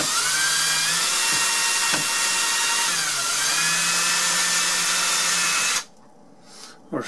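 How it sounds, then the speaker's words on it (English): A power drill bores a pilot hole of about an inch into hard wood while fixing a double electric wall oven, whining steadily and close for nearly six seconds before stopping suddenly. "Because the wood's kind of hard. You don't want to have it split. So do about an inch pilot hole."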